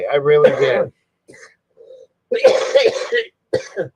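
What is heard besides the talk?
cough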